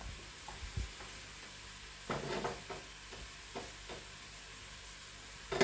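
Chicken tajine is stirred inside a Cookeo multicooker, with a few scraping, clattering strokes of a utensil against the pot standing out over a quiet hiss, followed by a sharper knock at the end.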